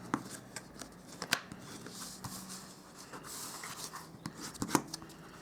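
Paper box flaps being folded and creased by hand, giving soft rustles and a few sharp crisp clicks close by with no talking.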